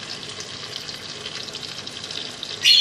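Garlic ginger paste goes into mutton frying in a pot, giving a soft continuous sizzle that swells into a louder hiss at the very end.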